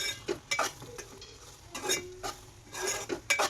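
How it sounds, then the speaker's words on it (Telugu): Semiya kesari, a sweet vermicelli dish with crushed cardamom, being stirred in a pan, with several short scraping and clinking strokes of a utensil against the pan at irregular intervals, close and fairly quiet. "ముందుగా దంచి పెట్టుకున్న ఇలాచీ వేసుకోవాలి వేసుకొని తిప్పాలి"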